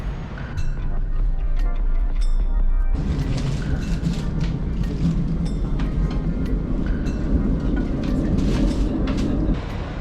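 Train travelling through London, a loud continuous interior rumble with rhythmic clicks and rattles of the carriage running over track joints, steady throughout with a brief shift in tone early on.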